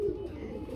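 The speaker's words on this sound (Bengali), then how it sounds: "খুবই সুন্দর একটা জোড়া মুখী কবুতর" A pair of pigeons at a breeding farm gives one short, soft coo, close but faint over a dull room background.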